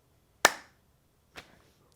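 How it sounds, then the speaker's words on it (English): Two hand claps made near the face, the first sharp and loud, the second about a second later and noticeably softer, each ringing out briefly before quiet returns, with no talking. "Go ahead and just clap by your face."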